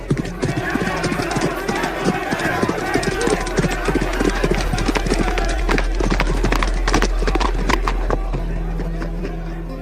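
Cavalry horses clatter on a street in Jerusalem while breaking up a crowd, a loud, dense run of overlapping hoofbeats with voices mixed into the tumult, fading slightly at the end.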